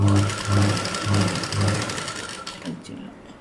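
A sewing machine stitches a 36-inch blouse, its steady mechanical whirr running in rhythmic bursts and pauses at close range, with a voice speaking over it.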